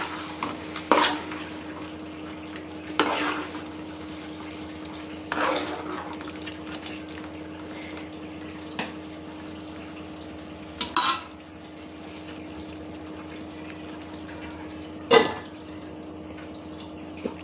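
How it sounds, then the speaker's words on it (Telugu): Chicken masala gravy made with curd and lemon juice is stirred in a pot while it simmers, giving about six scattered scraping strokes of a spoon against the metal over a soft, steady bubbling background, with no talking. "మధ్య మధ్యలో ఇలా ఒకసారి కలుపుకోండి"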